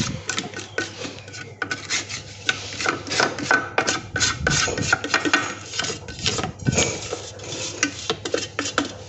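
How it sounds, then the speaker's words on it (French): A spatula scrapes around the sides of a mixing bowl holding a light fromage blanc cheesecake mixture with lemon, giving repeated close rubbing and scraping strokes with small clinks, uneven in rhythm, with no voice. "je vais venir, hop, bien racler mes bords"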